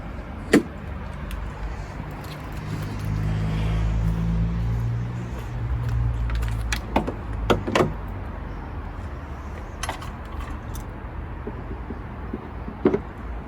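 Bonnet release lever pulled and the bonnet opened on a 2021 Weinberg CaraCompact Pepper motorhome: a few sharp clicks and clunks, one near 0.5 s and others later, over a steady low rumble with no talk.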